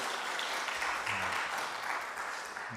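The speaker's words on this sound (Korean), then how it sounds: "그래서 잘 왔다고 한번 박수해 주시면 좋겠고요" A church congregation at a Sunday worship service claps together in a steady, fairly soft round of applause that carries on for a few seconds, with a faint voice murmuring beneath.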